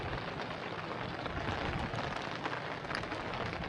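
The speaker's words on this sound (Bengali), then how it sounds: "পুরো ঝিরিঝিরি বৃষ্টি শুরু হয়ে গেছে" Light drizzle falls on a river in the Sundarbans, a soft, even hiss of rain that stays faint and constant throughout with no voices over it.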